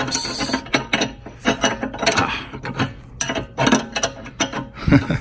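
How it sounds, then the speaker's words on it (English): A plain wrench working a bolt on the air strut of a Mercedes S430 (W220), irregular close metallic clicks, scrapes and grinding rubs in short uneven bursts. "So I'm stuck with a normal old wrench until it pops."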